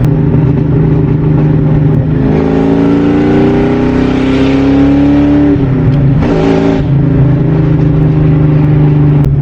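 A Ford Mustang engine revs hard, rising to a loud roar before dropping back, then a second short rev as it settles to a steady idle.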